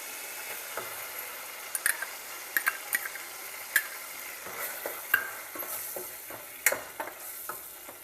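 Country chicken sukka sizzles in a pan while being stirred with masala, giving soft continuous frying hiss broken by irregular sharp scrapes and clicks of the spoon against the pan, close and moderately loud.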